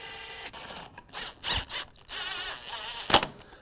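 A wrench clicks in short bursts while transmission bolts are torqued to 90 inch-pounds, giving sharp ratcheting and squealing metallic sounds with brief pauses between them, close and fairly clear, without speech.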